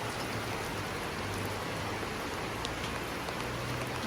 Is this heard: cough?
no